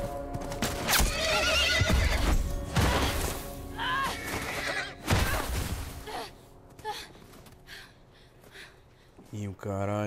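A horse in the video game The Last of Us whinnies and neighs loudly several times, mixed with hoof clip-clops and sharp bangs under excited talking.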